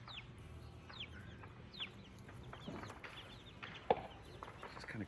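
Backyard chickens cluck softly and intermittently, with small chirps and scratching scattered through a quiet outdoor scene and a single sharper peep near the end.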